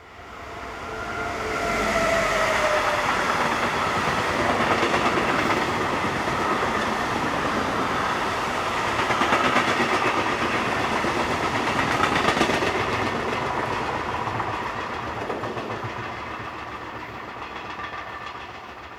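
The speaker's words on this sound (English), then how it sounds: "Vectron number 476457, another one of the 7 operated in Switzerland by Railcare." A Railcare Vectron locomotive, one of seven operated in Switzerland, hauls a train along the Olten–Oensingen main line, with steady loud rolling rumble and wheel clatter sustained throughout as it passes close by.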